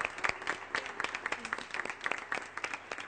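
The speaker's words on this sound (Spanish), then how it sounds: "Un aplauso a ambos." A small forum audience claps in brisk, fairly sparse and distinct hand claps, each one clearly separate, moderately close and continuing steadily throughout.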